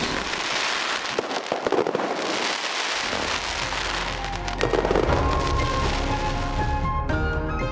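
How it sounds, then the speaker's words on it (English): A fireworks display with dense crackling bursts and booming pops, loud and continuous, with some faint musical tones near the end. "by a magnificent display of fireworks"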